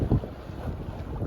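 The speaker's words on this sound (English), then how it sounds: "Just sailing at the moment, no engine." A sailboat under sail alone with the engine off, on a beam reach off the Greek islands near Nisyros, giving a steady rush of wind and water noise with soft low swells and no talk.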